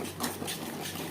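A little water poured into a pan while potol and paneer cook with spices, heard as a brief, soft wash of splashing hiss.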